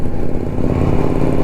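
Loud, close engine rumble from a superbike worth about 20 lakh on a highway ride, a short, steady low throb with a slight clattering texture and no speech.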